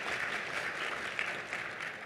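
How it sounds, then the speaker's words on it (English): Applause at a parliamentary luncheon, a steady wash of many clapping hands, moderately faint and continuous throughout. "That round of applause,"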